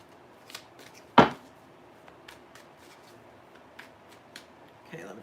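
Tarot cards are shuffled by hand in soft, irregular riffles and taps, with one sharper slap near the start, quiet and close against faint room noise, without talking.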